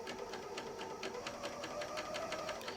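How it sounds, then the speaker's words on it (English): Bernina L 460 serger running a 4-thread overlock stitch, a fast, even mechanical chatter with rapid rhythmic ticking, steady and moderately quiet throughout without talk. "I'm going to put my presser foot down, and what I'm going to do is I'm just going to serge along here."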